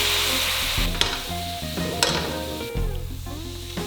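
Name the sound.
pan sizzling while deglazed with vinegar and beer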